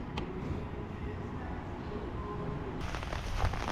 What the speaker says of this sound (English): The rain is following us everywhere we go